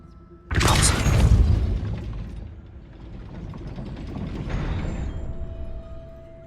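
A Depulso spell cast in a video game to raise a gate, heard as a sudden heavy boom followed by a low mechanical rumble and grinding that swells again before settling into a faint hum.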